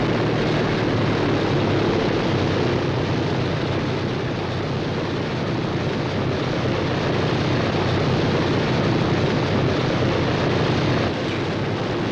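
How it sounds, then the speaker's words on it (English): Propeller aircraft taxiing out toward runways at a wartime airfield, a steady loud broadband engine drone with a low rumble that holds throughout without any voices. "Planes taxied out to the runways, it was always uncertain how many would return."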